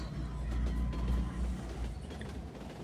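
Inside a train in a video game, a steady low rumble and mechanical creaking runs throughout at moderate volume, with no voices.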